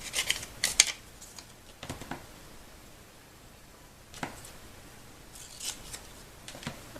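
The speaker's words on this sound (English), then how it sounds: "I'm going to take a Post-it and actually cut it only the width of the ship." Scissors snip a Post-it note down to a narrow strip for card-making, giving a few quiet, sharp cuts in a short cluster early on, then isolated snips later with quiet gaps between.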